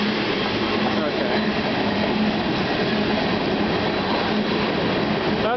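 A CN freight train passes at Bayview Junction, a steady loud rumbling roll of rail cars with faint wheel clatter and squeal, continuous and close for the whole stretch.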